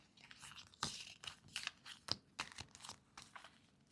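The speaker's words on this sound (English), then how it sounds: "These heart-shaped cards are definitely more difficult to shuffle than they appear" Heart-shaped cards are shuffled by hand, giving soft irregular crisp riffles and snaps in quick bursts, close and fairly quiet.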